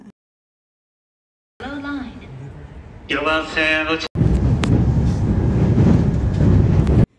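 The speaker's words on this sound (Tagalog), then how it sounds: "Mabilis yung takbo ng tren pa airport, unlike dun sa mga regular na train." Tokyo airport express train running at speed, a loud steady rumble and rush filling the back half after a quieter stretch where a voice talks over softer background noise.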